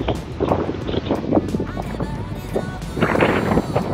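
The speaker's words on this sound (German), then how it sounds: "Unglaublich windig, oder?" Strong wind gusts buffet the microphone at Lake Neusiedl near Podersdorf, a loud roaring rush with bursts of flutter and people talking faintly underneath.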